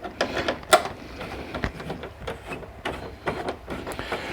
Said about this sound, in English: There's a screw on the end of these ones, so we use our number 10 Torx bit.